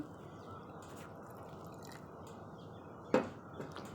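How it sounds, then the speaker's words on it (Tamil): Water pours steadily into a mixer cup for beetroot juice with a continuous trickling rush, and a brief clunk sounds near the end. "அப்புறம் இந்த தண்ணி ஆட் பண்ணுறேன்"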